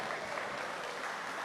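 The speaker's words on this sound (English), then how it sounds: "Let's give a round of applause" An audience at a college football National Signing Day event applauds in a steady, dense wash of clapping that runs evenly throughout.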